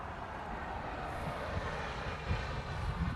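A Boeing 747 comes in to land on runway 4 Right at Honolulu, its engines a steady broad roar that holds level and loud for the whole stretch with no voices.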